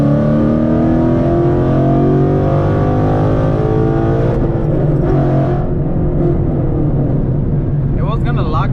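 A Ford Mustang GT fitted with a drag pack accelerates hard in third gear, its engine droning loud and close with rising harmonics, then the revs drop and ease off near the end.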